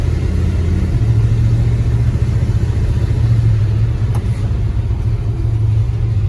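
A Dodge D100 barn-find pickup truck with a slipping transmission is driving after 25 years. A steady, loud low engine rumble drones continuously, with a faint mid-range hum over it.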